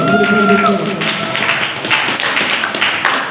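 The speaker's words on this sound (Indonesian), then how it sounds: "Boleh tepuk tangan dulu." After a talk at a literary event, an audience claps with loose, uneven clapping under a short voice at the start, fairly close and loud.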